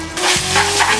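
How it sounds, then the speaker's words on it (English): Egg being stirred in a hot pan while making Chinese chive pockets, a close, steady scraping and sizzle lasting about a second with no talking. "Stir the egg. Let the liquid touch to the bottom so it can cook quicker."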